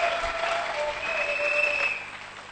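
A church congregation applauding loudly, steady dense clapping with a few whistles riding over it, close and filling the room.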